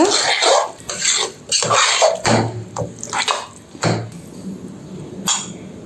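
Bottle gourd sambar rice being stirred in a pot with a spoon, giving repeated scraping and clattering strokes in bursts, loud and close, with no talking.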